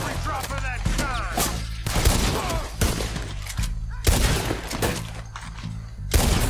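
Repeated gunfire from a Lancaster rifle in Red Dead Redemption 2, loud shots in quick succession amid a dense, continuous battle din with overlapping blasts and background game noise.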